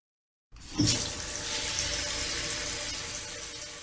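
Water gushes steadily from bath taps in a home bathroom, a loud, continuous splashing stream that starts abruptly after a brief silence and keeps running without pause.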